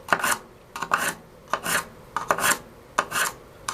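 A knife is sharpened by grinding metal off the blade to form a secondary bevel, heard as about six close, rhythmic rasping strokes, each a short harsh scrape separated by brief pauses.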